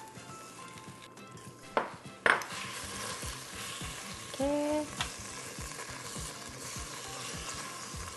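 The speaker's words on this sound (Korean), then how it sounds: "먼저 이 냄비가 좀 열이 오르면 그때 고기 넣고 같이 볶겠습니다" Beef sizzles and fries in a heated pot as the base for a Korean beef and radish soup. A constant crackle runs under a few metal clanks of a utensil stirring against the pot, and one person says a brief word.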